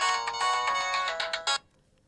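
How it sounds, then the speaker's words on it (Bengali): A phone's ringtone sounds close and clear, a quick repeating melodic pattern for about one and a half seconds before cutting off into silence. "একটা ফোন এসছে আমার।"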